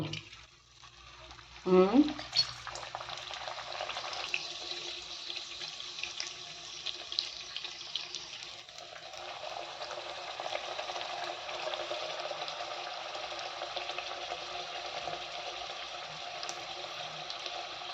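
Puri dough dropped into hot oil sets off a steady bubbling sizzle after a brief clatter, continuing close and fairly quiet with no talk.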